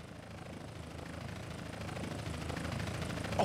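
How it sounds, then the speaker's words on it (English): A helicopter in GTA San Andreas draws nearer, its steady rotor thrum and engine drone slowly swelling louder over a few seconds without any talk. "Chopper inbound!"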